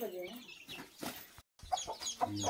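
A chicken clucks in short bursts amid background voices and faint outdoor chatter, with a brief silent gap midway.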